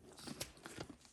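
An alpaca crunches and chews on a peppermint during hand-shearing, a few close, soft bites and grinding crunches with faint background rustle.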